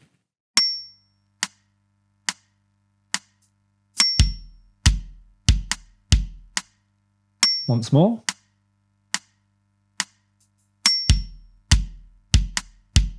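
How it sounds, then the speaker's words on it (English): Left-foot hi-hat closings and groups of four bass drum notes at 70 BPM, a drum lesson groove, played as sparse, evenly spaced close hits with short decays; a voice speaks briefly at the start. "So what I did was get the left foot closing the hi-hat and then immediately playing those 4 bass"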